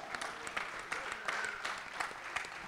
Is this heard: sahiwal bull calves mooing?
no